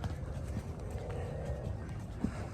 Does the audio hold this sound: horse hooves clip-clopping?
yes